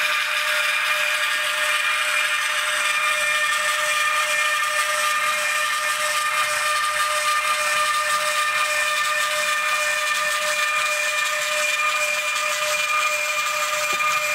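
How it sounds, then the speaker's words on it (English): Compressor on a Fleischmann 731175 BR 183 model electric locomotive running as a steady, continuous hiss with a faint high whine, close and constant throughout with no talking. "You hear the compressor kicking in."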